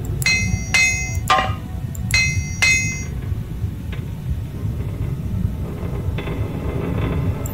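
Bright metallic hammer clinks ring out in quick pairs as armor is repaired in the video game Morrowind, about five strikes in the first three seconds, then fainter knocks over a low ambient drone.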